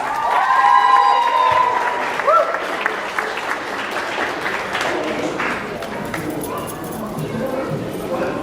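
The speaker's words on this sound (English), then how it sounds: "Give them a round of applause." Wedding guests applaud the couple in a steady wash of clapping from a crowd, continuing under voices and chatter throughout.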